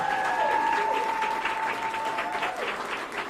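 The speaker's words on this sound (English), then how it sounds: "Let's give her another big round of applause." Sustained applause from a crowd, steady clapping filling the room for several seconds, with a faint tonal whistle or feedback ringing underneath.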